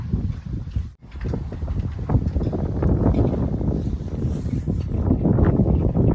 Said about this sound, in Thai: ลมยังแรงเลยจ้ะ